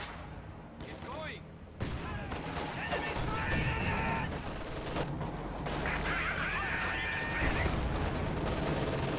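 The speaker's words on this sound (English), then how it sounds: "I'm rifle grenading the middle" Company of Heroes 2 battle with rifle grenades popping and scattered gunfire cracking through a busy, noisy mix, bursts of shots recurring over several seconds while voices talk over the action.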